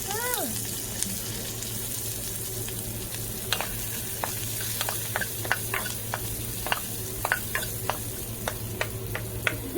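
Onions frying in oil make a steady broadband sizzle, punctuated by sharp clicks and scrapes of stirring, with a low hum underneath and faint voices nearby.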